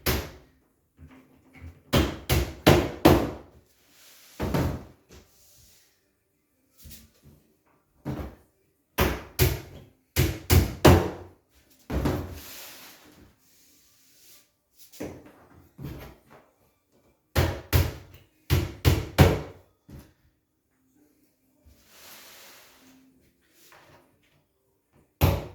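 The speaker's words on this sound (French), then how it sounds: "Je cloue du milieu qui est resté là." Nails hammered into a wardrobe dressing column panel during assembly, heard as clustered bursts of sharp, close impacts in quick runs separated by pauses, with faint talk in between.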